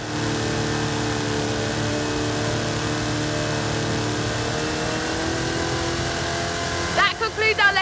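A car engine in the Forza Horizon 5 racing game holds a steady, loud drone with sustained harmonic tones throughout, swelling and revving more sharply near the end, with no talk over it.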